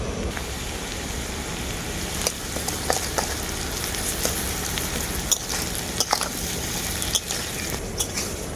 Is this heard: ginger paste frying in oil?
yes